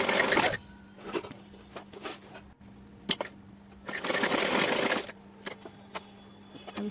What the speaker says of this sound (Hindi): अभी मैं इन रजाई और गद्दों को जो खुली साइड थी वो वाली सिल लेंगे।